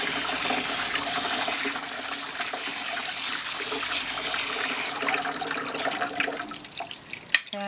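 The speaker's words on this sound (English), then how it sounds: "give it a squirt with a hose, precious corn" A hose sprays water to rinse whole dried corn, producing a steady close hiss and splash that runs continuously before shifting to a rougher, more uneven spatter near the end.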